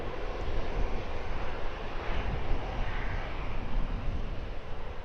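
Jet aircraft roar steadily at an airport during sunrise plane spotting, a broad, continuous engine rumble from a distance with no voices.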